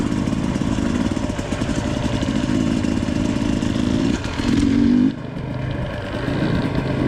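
A motorcycle rides desert trails in Kearney, Arizona, its engine running close and steady with a rough, pulsing note, briefly surging in a short rev before dropping back to a lower hum.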